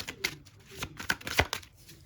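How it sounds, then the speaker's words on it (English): Tarot cards shuffled by hand in a few quick riffling bursts, close and moderately soft, with no voice over them. "Let me shuffle that again."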